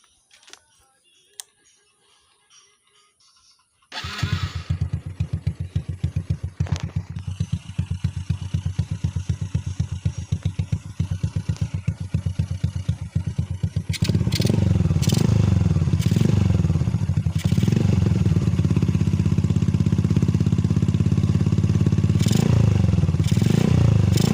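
A modified Honda Blade 110 motorcycle engine idles with a rough, loud, ticking rumble, then revs harder and stays loud in sustained bursts close by.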